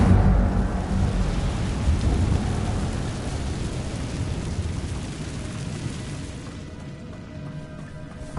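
The Incendio fire spell in Hogwarts Legacy, cast as a loud, rumbling roar of flame that booms at first and then fades.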